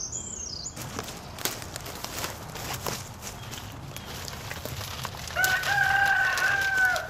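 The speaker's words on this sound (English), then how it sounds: "As you hear, my chickens are actually enjoying the day." Backyard chickens cluck and a rooster crows, somewhat distant and moderately quiet, with scattered clucks early on and a longer crowing call near the end over soft outdoor background noise.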